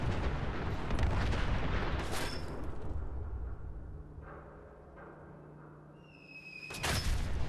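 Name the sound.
massive explosion in the video game Fallout 4 VR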